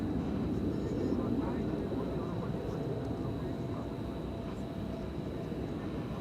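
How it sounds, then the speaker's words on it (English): An Embraer E-jet takes off at night at DFW Airport, heard as a faint, distant, steady jet roar with no breaks. "Looks like another E-jet taking off there."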